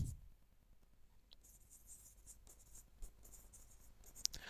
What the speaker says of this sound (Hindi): यहाँ पे मैं लिख देता हूँ